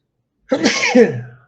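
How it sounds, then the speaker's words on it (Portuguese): A single loud, close sneeze bursts out after a moment of silence, sharp at the start and trailing off, from a person in the middle of an acupuncture diagnosis discussion. "Eu vou espirrar."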